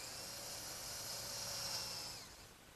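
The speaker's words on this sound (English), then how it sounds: "I'll drill some pilot holes to fasten the leaves to the top" A power drill bores pilot holes to fasten the wooden leaves of a drop-leaf table to its top, a steady high whine holding for a couple of seconds before tapering off.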